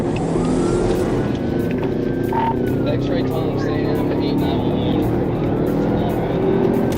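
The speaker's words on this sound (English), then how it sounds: "It's gonna be a black motorcycle." A black motorcycle speeds away during a police chase, its engine a steady, loud drone running beneath continuous radio talk.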